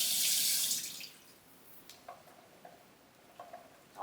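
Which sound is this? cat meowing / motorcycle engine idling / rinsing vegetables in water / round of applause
rinsing vegetables in water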